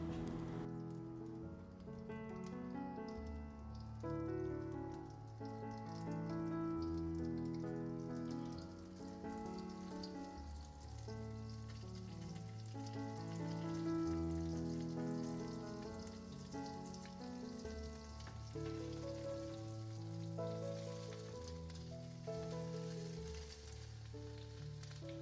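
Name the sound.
bread rolls dipped in mixture shallow frying in a pan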